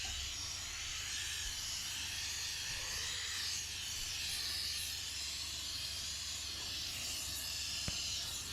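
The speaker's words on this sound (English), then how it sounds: "This is just basically about the steamer." A steam cleaner hisses steadily inside a car's interior, producing a constant airy spray with small shifts in tone and one brief click near the end.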